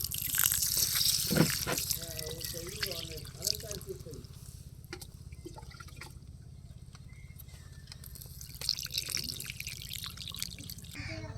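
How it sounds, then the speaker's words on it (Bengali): Rice grains are washed in water in a home kitchen, with splashing, dripping and trickling sounds in bursts near at hand, easing quieter in the middle before more swishing returns. "এবার চালগুলো পরিষ্কার করে ধুয়ে নেব"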